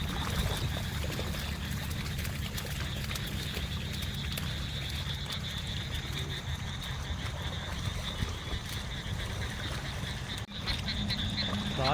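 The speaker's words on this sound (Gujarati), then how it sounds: "ત્યારે છે ને દેડકાનો અવાજ આવે" A dense chorus of frogs croaks continuously, many overlapping calls forming a throbbing outdoor din, with a faint watery trickle beneath.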